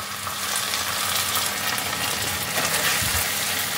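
Ginger-garlic paste frying with browned onions in a pan for methi chicken, a steady close sizzle running throughout at an even level with no talk.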